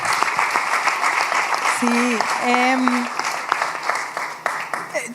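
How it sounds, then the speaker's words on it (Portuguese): An audience at an international participatory-democracy conference breaks into sustained applause, a dense clatter of many hands, while a voice speaks briefly over it midway through. "Un aplauso, ¿no?"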